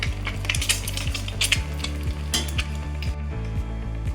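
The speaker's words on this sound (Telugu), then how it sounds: "అదే నూనెలో కొంచెం ఉల్లిపాయలు వేసి వేయించుకుంటున్నాం" Onions sizzle and fry steadily in oil in a pan, used just before for frying eggs for a garlic-chili egg fry. A close, continuous crackle with stirring scrapes and light utensil clinks, and no talk.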